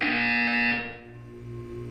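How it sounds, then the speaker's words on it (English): A buzzer in the Portal 2 video game sounds as one loud, harsh electronic tone that holds for under a second and then cuts off, leaving a low hum behind it. "When you hear the buzzer, look up at the ceiling."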